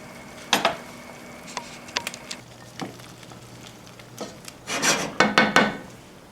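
A spoon stirs black beans and yams in a stew pot, making a series of close scraping, rubbing strokes and clatters that build into a denser burst of stirring near the end.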